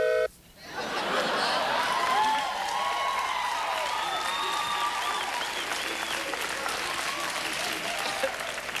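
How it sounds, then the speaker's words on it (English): Studio audience at a 1991 late-night talk show bursts into loud, dense applause and clapping after a brief pause, holding steady with faint laughter mixed in. "Even that guy is clapping."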